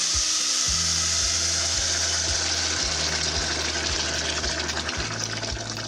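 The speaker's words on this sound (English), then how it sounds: "So we've got 2 cups of rice, 4 cups of hot boiling water. In she goes." Four cups of hot boiling water are poured onto two cups of rice for pilau, making a steady, close hissing rush that runs unbroken for about six seconds with no voices.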